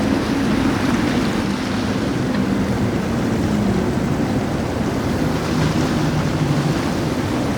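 A Midnight Express boat with six Mercury 450R outboard engines at Haulover Inlet gives a steady, broad roar, continuous and fairly loud, mixed with wind noise and the wash of surf.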